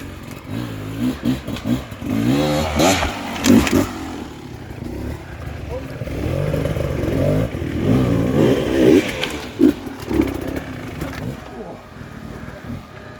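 A mountain bike climbs a switchback trail, its tyres crunching and scraping over dirt with chain and frame clatter. The sound stays close and steady, with a few sharper knocks and rattles, and talk and a motor-like drone mix in underneath.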